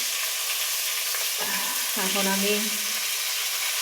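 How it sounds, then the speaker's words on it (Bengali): Tilapia fish frying in hot oil in a home kitchen, a continuous sizzle under a voice speaking briefly midway. "আর এই যে মাছ ভাজছি, তেলাপিয়া মাছ।"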